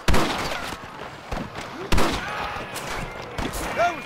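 Gunfire in the video game Red Dead Redemption: several sharp shots crack out irregularly, near and loud, with echoing thuds between bursts and a brief whoosh near the end.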